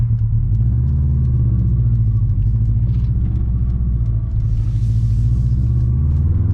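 Inside a moving Subaru WRX STI, the engine drones with a deep, steady low rumble and slight rises in pitch under load, loud and constant throughout.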